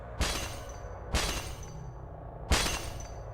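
Glass shatters three times in a Silent Hill video game noise room, each a sharp loud crash followed by a tinkling decay, spaced about a second apart against a low ambient hum.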